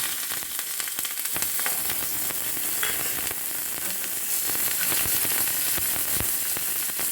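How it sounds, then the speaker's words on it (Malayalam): Shallots, dried red chilli and curry leaves sizzle and crackle in hot oil for a Kerala sadya-style koottu curry, a steady dense frying hiss with scattered pops throughout, no talking. "ഒരു ചെറിയ ഉള്ളി അരിഞ്ഞെടുത്തിട്ടുണ്ട്, ഒരു വറ്റൽമുളക് എടുത്തിട്ടുണ്ട്, അതുപോലെ തന്നെ ഒരു 2 കരിയാപ്പില എടുത്തിട്ടുണ്ട്. ഇവയും കൂടെ ഇട്ട് കൊടുക്കാം."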